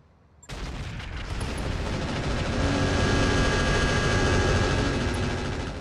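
Heavy mech weapons in Battletech open up on turrets with a sudden blast, then a sustained roaring barrage of fire and explosions, loud and dense, without speech.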